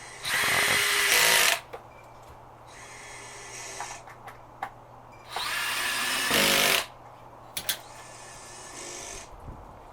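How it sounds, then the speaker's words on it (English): A power drill drives 1-inch stainless steel screws into the back piece of a Miller Marine fillet table, two loud whirring bursts of about a second each, close up, with handling clicks and quieter running between them. "you can see where I'm screwing it in there across the top of that back piece"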